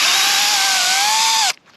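A power drill drives a coated screw into a mailbox, a steady, loud whine held for about a second and a half that cuts off abruptly, with no speech.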